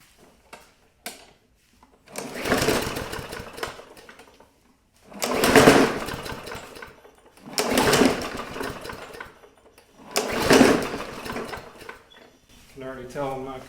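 A Senix 58V lithium-ion cordless electric lawn mower runs in four separate bursts of a couple of seconds each, a loud close whirring hum that spins up and stops with short silences between.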